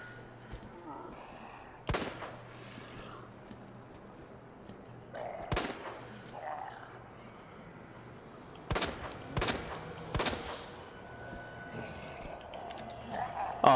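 Several sharp gunshots in the Resident Evil 2 survival-horror game, fired as Claire, come in spaced bursts of two or three over a low ambient game drone, loud and close, with a final shot near the end.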